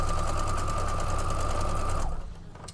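A sewing machine stitches fabric strips together in a steady, fast mechanical whir with a constant hum, running continuously and close before abruptly stopping.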